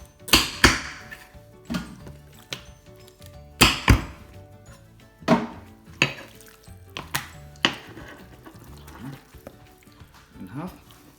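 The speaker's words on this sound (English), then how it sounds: "So we'll start off by removing the claws" Sharp knife chopping through the claws of a gannet (guga) on a kitchen board, a series of distinct hard cutting knocks spaced irregularly, close and crisp, with someone talking between some strikes.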